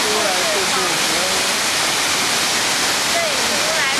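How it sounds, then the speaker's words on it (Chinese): Wulai Waterfall in Taiwan roars with a loud, dense, continuous rush of falling water, close by, while a few birds chirp faintly over it. "这里是乌来瀑布。"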